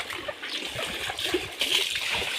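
A young elephant splashes and sloshes in a mud-bath tub, producing irregular nearby splatters of water under light background sounds.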